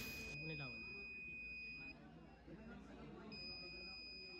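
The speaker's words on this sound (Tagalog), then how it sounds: "Gumagana ang buzzer kapag hindi nailawan ng light resistor." An electronic buzzer in a light-resistor robotics circuit gives high steady tones that stop and start again, under a noisy room with people talking nearby.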